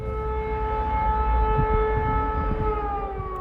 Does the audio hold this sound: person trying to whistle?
no